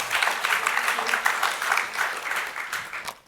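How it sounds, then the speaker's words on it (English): Conference audience applauding at the close of a World Water Week session on the economics of water, a short burst of dense clapping with some distinct claps, steady before tapering off. "one big final round of applause for Henk Ovink again"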